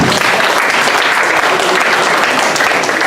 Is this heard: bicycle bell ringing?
no